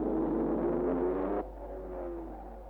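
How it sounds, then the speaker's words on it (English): Engine of a Ferrari race car at the 1959 Le Mans 24 Hours, a loud sustained roar that drops abruptly partway through to a lower, steadier drone. "Dan Gurney took over Ferrari number 12 and set off after Moss as the light started to fade."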